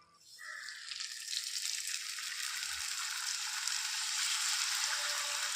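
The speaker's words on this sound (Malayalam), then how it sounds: "എണ്ണ ചൂടായിക്കണെന്ന് തോന്നുന്നു കേട്ടോ നമുക്കതൊന്ന് ഇട്ട് നോക്കല്ലേ" Rolled dough slipped into hot oil starts a bright, crackling sizzle that swells quickly and holds steady, close and moderately loud, with a faint clunk partway through and no talking.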